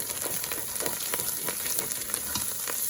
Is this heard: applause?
no